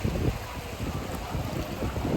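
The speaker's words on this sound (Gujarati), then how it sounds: "જો પાણી આવી રહ્યું છે" Sea water washes up the steps at Gomti Ghat in Dwarka, a low steady rush of surf mixed with wind noise on the microphone.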